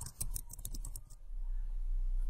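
A quick burst of keyboard typing, several close, crisp key clicks in the first second, followed by a steady low hum while a search term is entered into a Facebook ads setup form.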